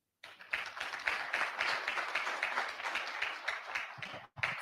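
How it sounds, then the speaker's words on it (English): An audience at a business event claps for several seconds after a moderator is introduced, moderately loud and fairly even before cutting off briefly near the end. "a round of applause for Sharon Uchono."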